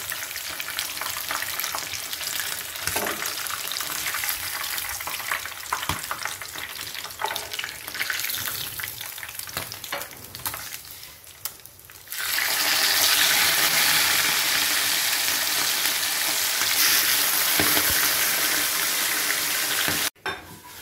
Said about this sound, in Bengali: মাছ ভাজাটা যদিও একটু ডিফিকাল্ট, খুবই তেল ছিটে পড়ে